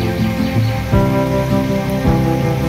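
Rain falls near a waterfall at the hidden waterfall in Khopoli, a steady, loud wash of rain noise throughout with faint tonal sounds beneath and no talking.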